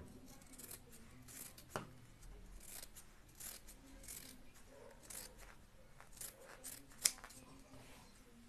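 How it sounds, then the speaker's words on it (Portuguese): Scissors cut through fabric for a box-style zippered pouch, making soft repeated snipping and rasping strokes close up and at low volume, with two sharper clicks of the blades. "Então, agora eu vou cortar"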